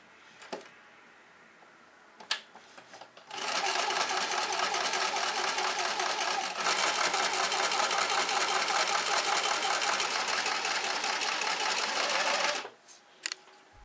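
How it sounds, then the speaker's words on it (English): A sewing machine stitches seams on lingerie for porcelain ball-jointed dolls, running steadily for about nine seconds with a rapid mechanical chatter, bracketed by a few clicks and fabric handling before and after. "Last, I can do the seams on the sewing machine."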